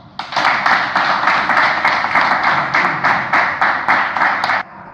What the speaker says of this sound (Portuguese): Salva de palmas para o seu colega